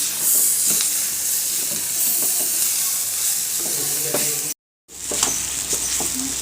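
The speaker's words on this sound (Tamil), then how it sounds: "இப்போ இதை நல்லா கிண்டி விட்டுக்கோங்க" Jackfruit seed stir-fry being stirred in a hot pan, a steady loud sizzle and hiss with scattered spoon scrapes and taps, close up, briefly cutting out before resuming.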